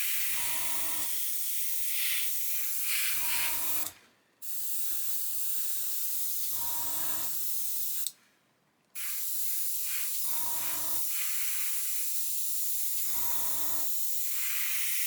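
Continuous hiss of an airbrush spraying acrylic paint on a model tank, holding steady with two brief pauses, alongside low rhythmic pulsing from a compressor nearby.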